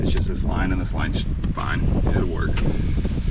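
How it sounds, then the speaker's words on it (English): Gusty wind buffets the microphone with a constant low roar while someone talks close by. "Sorry for the wind, it's super freaking windy out here"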